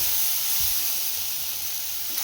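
Byadagi and hot green chillies with chilli powder fry in a pan, producing a steady close sizzling hiss that holds evenly throughout with no speech.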